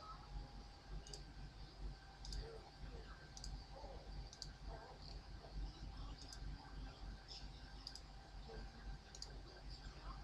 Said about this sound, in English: You can click and drag